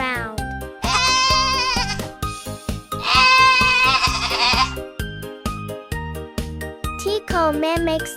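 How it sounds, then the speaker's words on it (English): A cartoon goat bleats in two wavering, sustained cries over bouncy children's music, with a shorter bleat near the end; the bleats sound stylised and playful rather than like a real farm animal. "The goat bleats cutely and jumps around."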